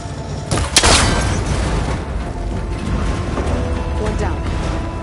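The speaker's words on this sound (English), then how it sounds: "That connector's holding the cables together. Should break if I shoot it." Gunfire in Horizon Forbidden West hits a cable connector until it breaks, giving one sharp, loud boom-like crack followed by a mechanical rumble and a steady background bed of game ambience.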